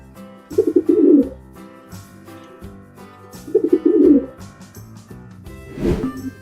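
A pigeon coos in two separate bursts of soft, throaty bubbling notes, each about a second long, with quieter pauses between them and a fainter third call near the end.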